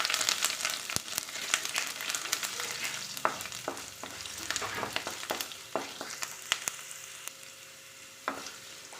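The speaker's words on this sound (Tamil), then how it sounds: "பெருங்காயம், பூண்டு நல்லா ரோஸ்ட் ஆகட்டும் எண்ணெயிலேயே" Asafoetida and garlic frying in hot oil for appalam kuzhambu, a busy crackling sizzle punctuated by sharp spatula scrapes and taps against the pan, close up and with no voices.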